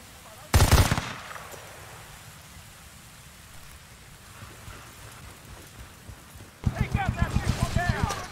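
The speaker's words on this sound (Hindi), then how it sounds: "अबे यार हर जगह मशीन गन लेके बैठे हैं ये लोग। अब कहाँ से फायरिंग कर रहे हैं लोग?" Enemy machine gun fire in the video game Battlefield: Bad Company 2, a loud burst of shots near the start, quieter background, then a rapid rattling string of rounds at the end.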